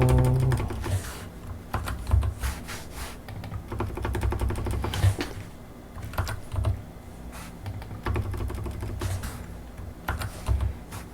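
Computer keyboard typing at a desk while building an SAP screen: steady, close key clicks and clacks with occasional louder strokes, continuing throughout with no speech.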